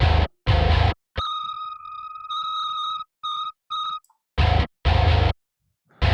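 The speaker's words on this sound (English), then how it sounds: "eliminate this little whistle my bass does" A thin, steady electronic whistle from a bass guitar's magnetic pickup rings in short separated bursts between loud blasts of distorted noise that stop and start abruptly.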